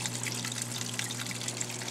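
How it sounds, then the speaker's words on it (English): Water drips and trickles inside a dart frog vivarium, faint scattered droplets over a soft continuous trickle and a low steady hum. "Lots of stuff dripping back in the background."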